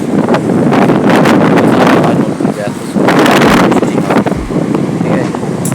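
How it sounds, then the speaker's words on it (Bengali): A new Crompton ceiling fan running at speed two gives a loud, close rush of moving air that buffets the microphone, and a person talks over it. "এটা দুয়ে চলছে, দেখুন কত হাওয়া দিচ্ছে। আওয়াজ শুনে তো বুঝতেই পারছেন একদম।"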